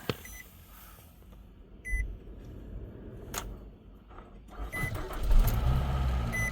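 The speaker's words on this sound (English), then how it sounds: "now I'm back inside the vehicle and now it should start" A Nissan Rogue starts after a jump start: a few electronic chime beeps sound first, then the engine cranks and catches into a louder, rumbling idle close by in the final seconds.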